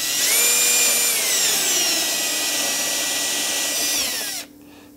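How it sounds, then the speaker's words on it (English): A power drill whines steadily at high speed for about four seconds, drilling into a Telecaster-style guitar body, loud and close, then cuts off abruptly, leaving a quiet room tone. "So we're just gonna drill carefully."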